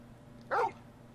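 A single short dog bark from the Final Fantasy 16 video game, one sharp close woof over a quiet hum.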